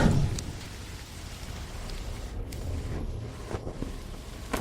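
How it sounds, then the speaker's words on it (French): Heavy rain pouring down in a continuous, hissing roar, with scattered sharper drops and splashes standing out near the end and no voices. "Il pleut à verse."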